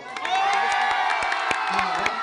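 A large crowd at an outdoor cash, phone and rice giveaway shouts back loudly in a sustained roar of mixed cheering and yelling voices that carries through the whole moment.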